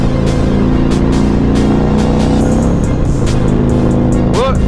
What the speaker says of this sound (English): some people cars are too loud